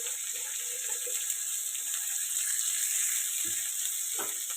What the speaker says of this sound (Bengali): তার মধ্যে দিয়ে দিব পেঁয়াজ।